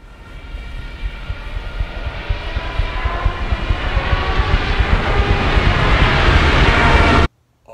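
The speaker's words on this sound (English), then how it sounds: "these German Stukas, these dive bombers coming in" German Stuka dive bombers from the film Dunkirk roar in with a loud, steadily building engine drone and rising whine that swells over several seconds, then cuts off abruptly.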